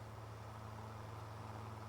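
Tractor engine in Farming Simulator 25, a quiet, steady low drone with a constant hum, like a vehicle idling or moving slowly, with no talk over it.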